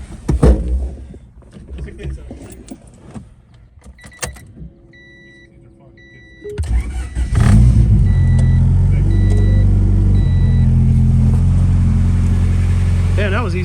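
A turbocharged Honda Civic EG race car cranks with a short whir of beeps and clicks, then fires into a loud close rumbling idle and revs, with people talking nearby in a garage.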